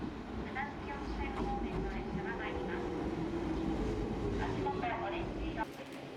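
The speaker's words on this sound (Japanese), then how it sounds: "渓谷を走るローカル線もまた旅の郷愁を誘います。" A Toyama Chiho Railway local train runs along a gorge line, with a steady rumbling roll and faint clatter carried throughout at an even level, and a brief shift near the end.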